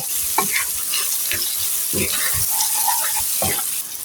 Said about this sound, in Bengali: এখন ভালো করে সবগুলি উপকরণ সবগুলি মশলার সঙ্গে আমি এটি মিশিয়ে নিব